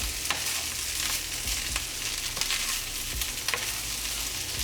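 Shrimp fry in a pan of fried rice over high heat, giving a loud, dense, continuous sizzle with intermittent scraping and stirring clicks.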